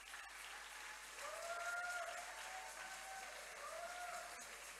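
A church congregation applauds in faint, steady, distant clapping that lasts throughout, with a soft sustained tone floating above it.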